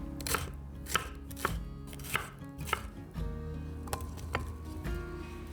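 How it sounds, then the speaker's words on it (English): A knife slices a large red pepper into thin strips on a cutting board, with a steady run of sharp chopping taps, some louder than others, close up and without talk. "after we cut the ends off and removed the core, she thinly slices them in strips."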